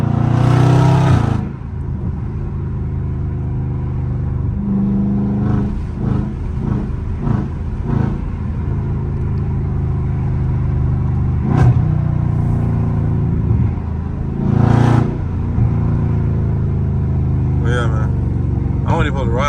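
A Dodge SRT with the 392 engine rumbles and revs through downshifts, a deep burbling exhaust with several sharp blips rising above it, while someone talks over much of it.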